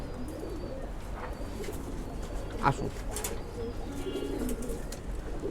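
Pigeons coo in a loft, soft and repeated among faint chirps and rustling, with a voice speaking briefly.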